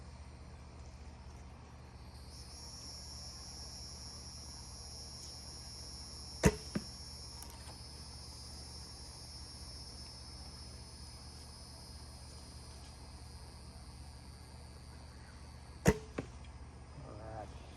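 Two arrows are shot from a Possum Bend bow, each a sharp, close snap about ten seconds apart, over a quiet outdoor background of steady insect or cricket buzzing.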